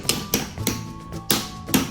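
A small hammer taps at a dinosaur skeleton dig kit, striking about five sharp, hard knocks at an uneven pace, close and fairly loud, with a faint tone lingering between hits.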